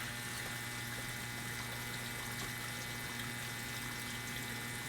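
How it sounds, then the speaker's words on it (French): Hot water running steadily from a household tap while a boiler is tested for restart, a continuous even rush with a low mechanical hum underneath throughout. "Donc là, je fais couler mon eau."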